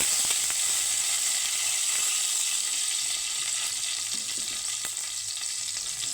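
Curry leaves and white mustard seeds sizzle in hot oil for a tempering, a continuous bright hiss with a few faint pops and stirring ticks, close and moderately quiet.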